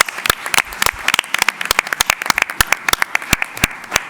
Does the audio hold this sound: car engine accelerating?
no